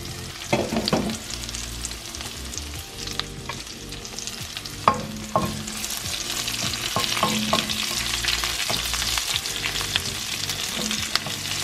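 Tomato chutney with chilies frying in a pan, a steady sizzle with scattered clinks and scrapes of stirring, and no talking.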